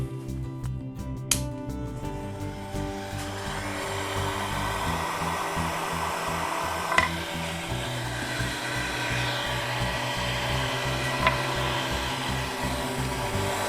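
A hot air tool blowing on low heat over a guitar body gives a steady close whooshing hiss after a few clicks at the start, with faint clinks now and then.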